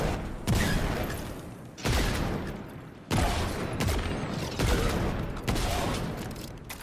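Heavy, spaced gunshots from a weapon in Destiny 2, tap-fired during a Lightfall mission, with five loud booming reports at roughly one-second intervals, each with a long rumbling tail and no talking.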